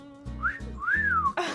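A person whistles a short rising-and-falling tune of two clear notes over a low steady hum, close and fairly loud, followed by a brief burst of noise.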